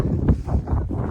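Gusty wind on a hilltop at Ponmudi in light drizzle buffets the microphone, making a brief, loud, rumbling rush with uneven swells.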